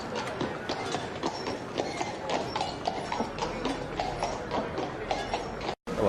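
Horse hooves clip-clop steadily at a trotting pace through an old film's dubbed-in soundtrack, with a brief dropout near the end.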